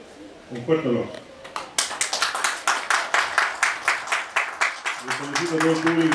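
Applause from the crowd at a criollo rodeo in Futrono, heard as a run of close, sharp claps with a steady rhythm that follows a voice over a loudspeaker, and talk returns at the end.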